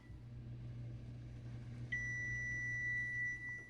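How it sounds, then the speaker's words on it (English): A kitchen timer is set for three minutes and gives off a single sustained electronic beep tone about halfway in, clear over a low steady kitchen hum. "And then I'm going to set the timer for 3 minutes."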